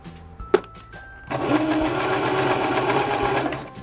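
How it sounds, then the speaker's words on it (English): Sewing machine stitching fabric while sewing a cosplay piece, starting after a few clicks and handling sounds, then a steady fast whirring motor hum with rhythmic needle chatter, close and loud, with no talking. "I'm just gonna sew it."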